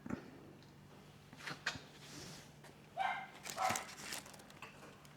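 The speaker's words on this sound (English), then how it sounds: "How good are yapping dogs?" Small dogs yap in short, sharp bursts, several quick barks clustered together, fairly close but not loud, over a quiet room with faint handling noise.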